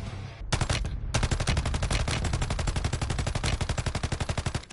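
Automatic gun fire in a video game, a short opening burst, a brief gap, then a long steady stream of rapid, evenly spaced shots, loud and close, with no talking over it.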